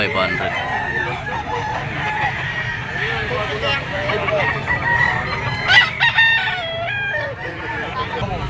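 A white-legged Boston Sweater bull stag, a young fighting rooster, crows loudly at a busy pet market. Clucking and other fowl sound through a constant crowd murmur, and voices carry on in the background.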